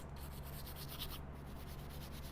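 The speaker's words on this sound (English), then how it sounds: "I'm gonna use this brush. I'm gonna just go around here and just kind of scrape some of that off." Brush scraping gunk off an M&P 2.0 pistol, a close, continuous rhythmic rubbing and scratching with quick repeated strokes.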